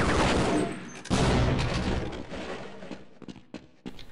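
Grenades going off in Half-Life: Blue Shift, two loud close blasts in quick succession followed by scattered sharp pops and crackles that thin out toward the end.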